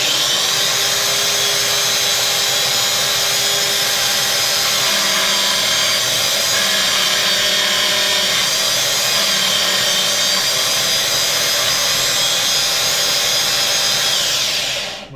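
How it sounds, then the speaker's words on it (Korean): An angle grinder runs steadily on a homemade DIY grinder table, a loud continuous whine with a dense high-pitched buzz that holds for the whole stretch before cutting off at the end. "자, 이번에는 그라인더 테이블입니다."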